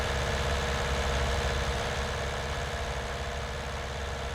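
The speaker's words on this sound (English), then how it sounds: "this tractor is gonna handle this like a champ" A tractor engine idles and runs steadily in Farming Simulator 19 while mowing, a constant low droning rumble with mid-range mechanical hum and no voices.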